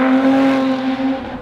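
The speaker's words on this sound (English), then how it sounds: "it's got more of an Evora 400 exhaust, so it sounds completely different to the 350" A Lotus Evora 400 engine hums with a strong, steady exhaust drone that holds a constant pitch before easing off, heard close and loud with no talking.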